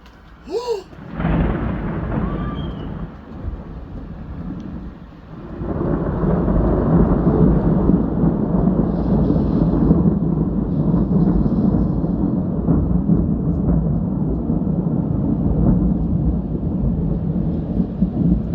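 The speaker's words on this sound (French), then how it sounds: "Ça tonne." Thunder rolling during a hailstorm, a sharp crack followed by a long, loud, deep rumble that swells and persists with heavy rain noise underneath.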